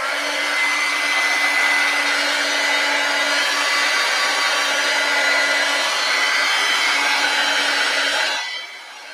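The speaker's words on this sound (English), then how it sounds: "Okay, so then we will hit this with the heat gun" A heat gun blows hot air over acrylic paint on a garden scene canvas with a loud, steady whirring hiss close by, then is switched off near the end.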